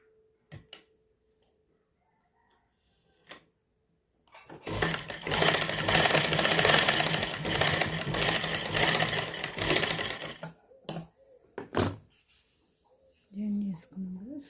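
Sewing machine running a long continuous seam on a cross-cut blouse, loud and steady for about six seconds, with brief starts and stops before and after and a voice speaking near the end.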